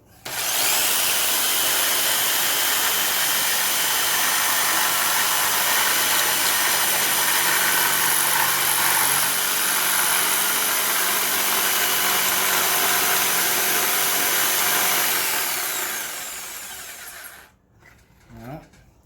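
A power saw blade makes a relief cut in trim moulding. It gives a loud, steady, continuous whine for about fifteen seconds, then winds down and stops near the end.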